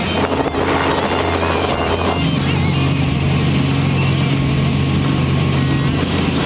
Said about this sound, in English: I can't believe I've actually managed to blag a ride in a helicopter to finish the rally.